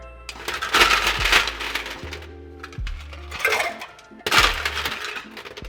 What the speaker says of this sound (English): Now I'm gonna add my large ice cubes to my shaker.